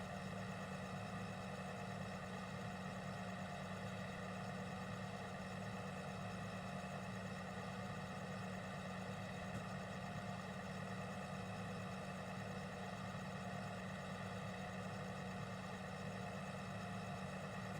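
A tractor engine runs steadily while mowing a field, a constant low drone and hum that stays level throughout with no pauses or talk.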